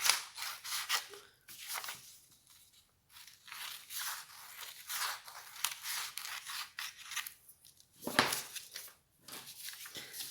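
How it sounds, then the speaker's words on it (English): Paper scissors snipping through a paper pattern chart for an elasticated circle skirt, close by, with repeated crisp cuts in short bursts and brief pauses, alone. "I'm going to use my paper scissors to cut my chart."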